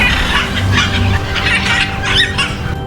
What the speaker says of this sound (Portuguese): são aves comuns na nossa região